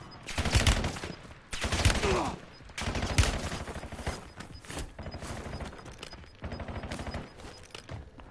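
Rapid bursts of gunfire from Black Ops 6 Warzone, a battle-royale shooter, cracking in repeated volleys across the clip with short gaps between, loud and close, with faint game voice lines underneath.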